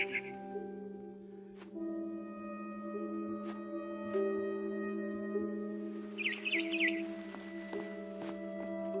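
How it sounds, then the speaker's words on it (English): A barn swallow chirps outside a window in the video game What Remains of Edith Finch. Two brief bursts of high chirping, one at the start and one midway, rise over steady, sustained musical drones. "Then I heard chirping outside my window. It was a barn swallow going back to her nest."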